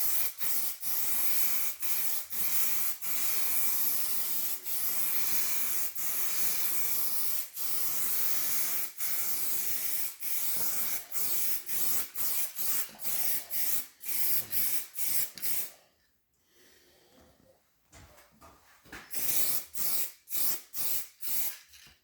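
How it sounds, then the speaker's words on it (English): Spray gun laying a guide coat over primer on a part from a 1982 Suzuki GS1100E under restoration: long steady hissing bursts broken by short pauses, close and loud, with a quieter gap near the end before a run of quick short sprays. "So we're putting on the guide coat."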